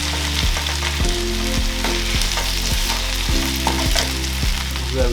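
Kenyan masala chicken drumsticks fry with curry powder while being stirred, a loud close sizzle under repeated rhythmic scrapes and knocks of the spoon against the pan.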